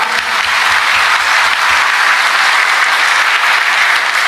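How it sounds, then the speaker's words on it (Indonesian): A large audience at an Indonesian religious gathering breaks into dense, steady applause that stays loud and uniform throughout, with no talking over it. "Tepuk tangan."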